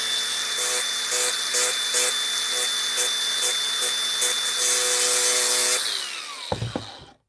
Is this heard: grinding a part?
yes